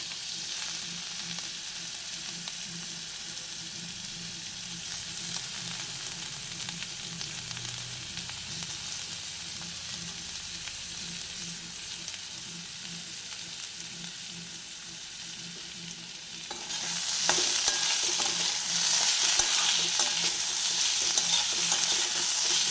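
Potatoes fry in a pan for veg chowmein with a continuous hissing sizzle and scraping stirring, and the sizzle flares noticeably louder near the end as more oil or ingredients hit the heat.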